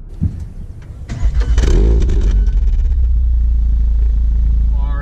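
A Volkswagen Golf R MK7.5 engine starts and settles into a loud, deep rumbling idle, close and steady with low-frequency drone.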